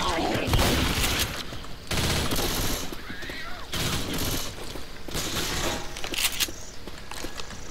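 Shotgun blasts in Left 4 Dead 2 ring out in dense bursts of loud, close shots mixed with other gunfire and chaotic game noise, with a few brief gaps between volleys.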